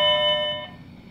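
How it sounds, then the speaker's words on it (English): A school bell rings briefly in a physics classroom, a single steady electronic tone that holds for about half a second and then fades out. "pause for the bell"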